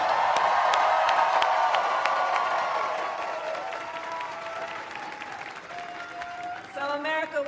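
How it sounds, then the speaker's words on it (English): Crowd applause and cheering for first-time voters at a US presidential campaign rally, loud and sustained at first with scattered whoops, then gradually thinning as voices rise. "Can we all applaud our first-time voters?"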